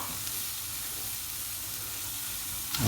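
Onions sizzling in olive oil at the bottom of a couscoussier, a soft steady frying hiss heard close with no voices, ending in a brief louder clatter.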